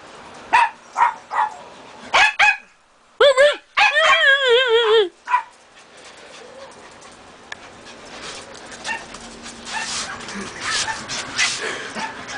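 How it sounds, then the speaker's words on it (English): A small dog barks and yips outdoors in quick bursts, with several sharp barks and then a longer run of high yips. Fainter outdoor noise follows. "Yeah, that's my little dog."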